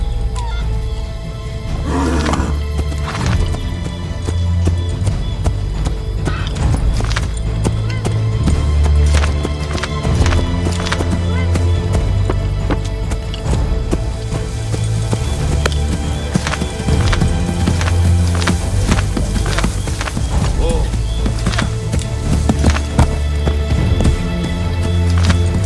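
A horse's hooves pound rhythmically in a fast gallop in the video game Assassin's Creed III Remastered, close and continuous, with occasional snorts and rustling over a steady background.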